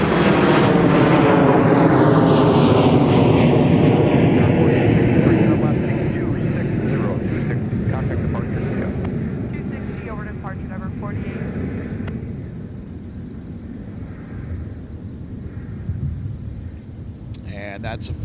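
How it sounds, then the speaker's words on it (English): CRJ jet airliner departing Minneapolis–Saint Paul airport, a loud, close engine roar that slowly fades as the jet moves away, with a voice talking over it. "that's a flight off to Cedar Rapids with another CRJ"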